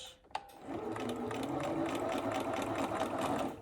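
A sewing machine runs steadily as it back stitches through a fabric face mask, a close, continuous mechanical whir with a fast regular needle rhythm, starting after a brief click.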